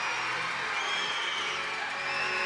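An indoor soccer crowd at a St. Louis Ambush versus Baltimore Blast game roars on its feet, a dense, sustained wash of cheering and whooping that stays loud throughout.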